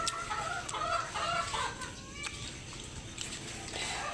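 Chickens cluck on and off close by at a Filipino home, busy overlapping calls over a constant background wash of noise, with no one speaking.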